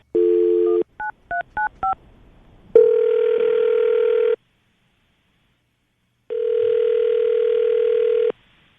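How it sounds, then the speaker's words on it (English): Touch-tone keypad beeps dialing a number, followed by two long, steady electronic tones separated by a silence, like a line ringing. "All right, Ben, we're going to call her right now, see if we can get her on the phone"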